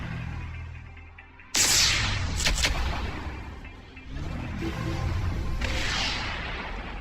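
Torpedoes firing in the space strategy game Sid Meier's Starships: an abrupt loud blast with a whooshing burst, followed by a second rushing launch and sustained roar, close and prominent with no talking.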